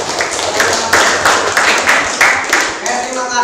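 Classroom applause, a loud burst of rhythmic hand clapping close by with sharp repeated claps and a few voices underneath.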